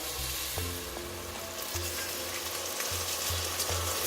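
Sauvignon Blanc poured into a hot pot to deglaze for white mussel chowder, a strong steady sizzle and bubbling with faint rhythmic low thumps underneath, no voices.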